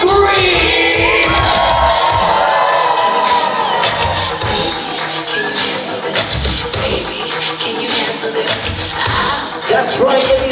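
Loud wedding reception crowd screaming and cheering in a packed hall, a continuous roar of shouts, whoops and high-pitched yells with bursts of louder screaming throughout.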